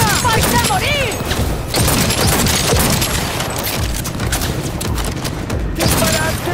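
Sustained gunfire in Cyberpunk 2077, dense overlapping bursts of automatic shots filling the whole stretch loudly, with shouted voices and in-game sounds mixed in.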